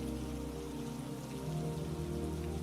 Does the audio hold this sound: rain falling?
yes